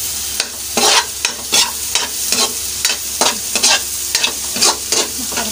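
Ginger sizzles in hot oil in a pan while a utensil stirs it in quick, regular scrapes, each stroke bringing a brief loud burst of frying hiss over a constant close sizzle.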